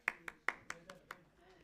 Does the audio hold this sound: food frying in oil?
no